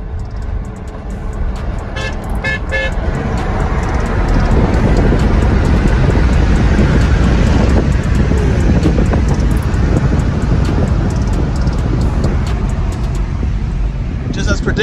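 A Tesla Model S Plaid and a Model X Plaid run a roll race, with heavy wind rush and road roar building steadily and loudly, a brief horn toot near the start, and voices talking beneath.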